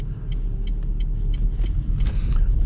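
Car engine running smoothly on an uphill night drive through snowy mountains, a steady low rumble and road hum inside the cabin, with faint regular clicking ticks over it.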